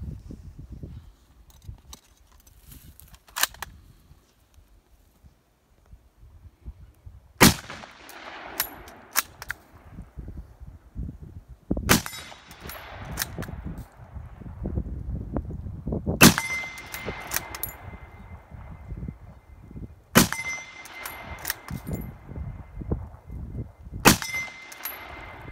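A VZ. 24 Czech Mauser rifle fires 8mm Mauser rounds in a series of sharp, loud single shots spaced several seconds apart, with quieter metallic bolt clatter and handling noises between them.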